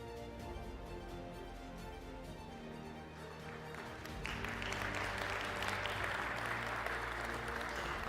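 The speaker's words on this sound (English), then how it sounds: "another round of applause, one like you mean it" Audience applause at a plenary session of a conference in a large hall, a sustained dense wash of clapping that swells louder partway through and continues steadily to the end.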